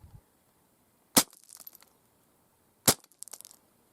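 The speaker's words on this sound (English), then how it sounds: "So I think we need to take the second boot of this pair and shoot it with a .22 rifle." A .22 rifle fires twice into a steel-toe leather boot, each loud sharp crack followed by brief scattered rattling debris, with quiet gaps between the shots.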